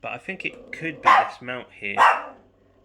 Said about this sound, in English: Apologise for the dog barking.